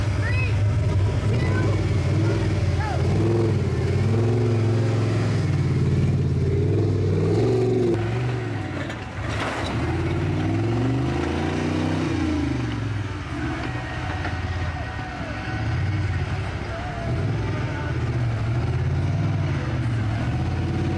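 A home-built rock crawler with a 4.8 motor, four-wheel steer and Super Duty axles front and rear runs loud and close at a rock crawl competition course, its engine revving up and down in surges as it drives.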